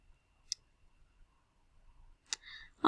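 A few sparse, isolated key clicks as an equation is typed on a keyboard, close and quiet over near silence, with a brief louder burst right at the end.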